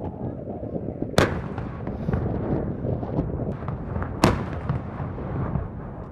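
An M777 howitzer fires during a U.S. Marines integrated training exercise, two sharp, loud outdoor booms a few seconds apart over steady wind and rumbling background noise.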